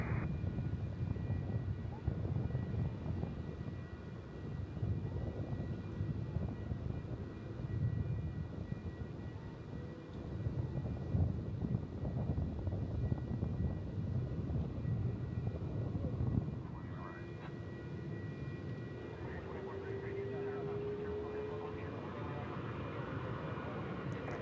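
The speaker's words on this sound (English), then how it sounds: "Back to back heavy departure here." A heavy jet airliner departs on takeoff at Dallas Fort Worth International Airport, a faint, distant low rumble that rolls on steadily before thinning into a softer, rising whine.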